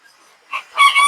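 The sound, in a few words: game bantam chickens crowing and clucking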